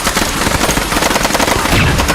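Rapid gunfire in a dubbed movie, a dense stream of loud automatic bursts with sharp cracks packed closely together, dominating the soundtrack without pause.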